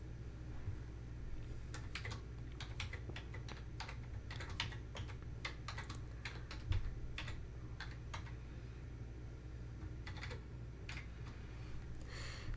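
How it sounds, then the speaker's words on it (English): Typing on a computer keyboard, soft irregular key clicks in quick runs with short pauses, faint and close over a low steady hum. "in the search bar, type Amazon EC2 role for SSM"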